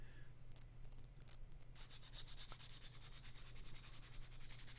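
Hand sanding a Hybridwood composite knife handle, bolsters included, with fine 1000-grit sandpaper: a quiet, steady run of short rubbing strokes over a low background hum, with no voices.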